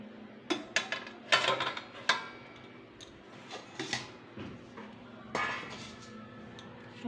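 Food being served into bowls at home, with scattered clinks and knocks of ladle against dishes, some clusters of quick taps and a longer scrape, close and fairly quiet.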